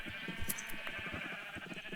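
Sheep bleat in a video game, a dense, continuous chorus of wavering calls that overlap one another and stay at a moderate level throughout.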